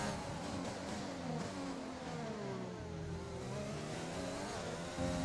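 An F1 race car engine in the F1 2020 video game rises and falls through its revs with a steady, sustained drone and shifting tones, heard alone at moderate level.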